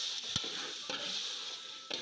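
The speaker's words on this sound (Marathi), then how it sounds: "तर बघू शकता मी आता चिकन परतत आहे" Chicken sautéing in hot oil for a village-style chicken biryani gives a steady, close sizzling hiss, broken by three sharp scrapes of a stirring spoon against the pan.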